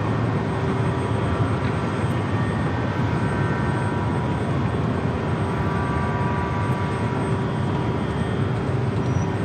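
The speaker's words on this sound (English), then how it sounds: "Shepsey flight rolling down the 24 left," An Airbus A321neo takes off on runway 24 Left at Los Angeles International Airport, producing a loud, steady jet engine roar that holds constant throughout.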